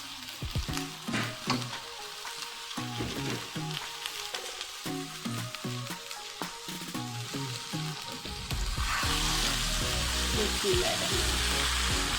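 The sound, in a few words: cauliflower frying in spiced oil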